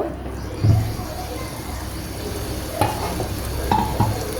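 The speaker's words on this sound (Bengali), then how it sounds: "এখন একটু ভালো করে নাড়াচাড়া দিচ্ছি।" Catla fish head curry being stirred in a pan, with a gentle sizzle and a few scraping, clinking strokes of a spoon, heard close up.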